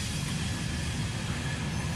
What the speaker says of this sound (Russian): Поезда ездят.